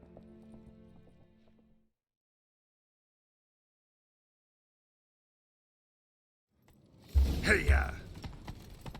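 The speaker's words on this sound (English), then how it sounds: "Grab a horse, we'll chase him down." Horse hooves pounding in The Witcher 3 video game as a mount is spurred into a chase, loud and close for a couple of seconds, with voices shouting over the clatter after a quiet stretch.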